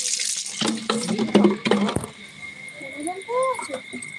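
Water splashing as open containers are filled from a tap, a hissing pour broken by a few clattering knocks, with crickets chirping in the background and people talking.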